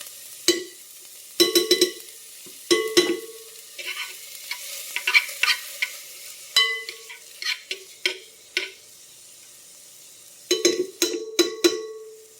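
Garlic frying in a pan for lentils with mushrooms, with repeated sharp metallic stirring clinks and scrapes in short bursts over a quiet sizzle, near and without talking.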